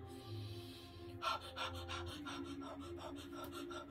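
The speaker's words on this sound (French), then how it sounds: "on va faire comme le chien quand il est en train on dit qu'il est haletant" Rapid, rhythmic panting breaths like a dog's during a breathing exercise, close and fairly faint, repeating quickly after a brief pause.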